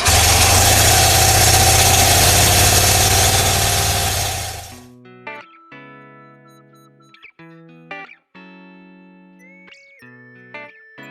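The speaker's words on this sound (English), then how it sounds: "Now the bike was running" A restored BMW R100RS motorcycle engine runs with a steady, loud idling rumble for about five seconds, then cuts off, leaving scattered faint knocks and tones.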